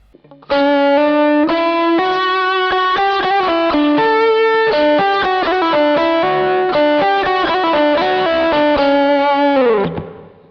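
Thick, almost fuzzy electric guitar lead played through a Wampler Pinnacle distortion pedal, a steady run of sustained distorted notes with light chorus-like shimmer, loud and alone, ending in a downward bend and fade.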